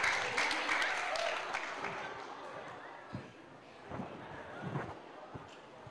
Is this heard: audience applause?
yes